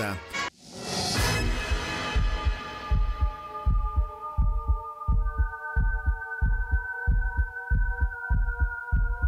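After a brief musical flourish, a deep, steady heartbeat thumps in regular double pulses under a sustained low hum, as at the start of a song.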